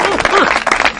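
Brief burst of audience clapping on a Congolese television talk show, with a voice speaking over it.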